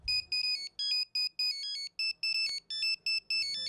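Phone ringtone ringing nearby, a bright electronic melody of short repeating beeping notes in quick bursts with brief gaps, heard alone.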